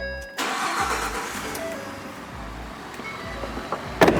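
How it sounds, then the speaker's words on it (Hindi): A 2015 Ford F-150 XLT pickup truck starts up with a brief crank and catches at once, then settles into a smooth, fairly quiet idle close by, ending with a couple of small clicks. "ये फोर्ड का स्टार्टअप"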